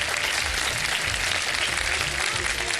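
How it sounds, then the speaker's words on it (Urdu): A studio audience at an Iftar television show claps together in a loud, steady burst of applause with low murmuring underneath. "تالیاں تو بجا دیں بھائی کوئی."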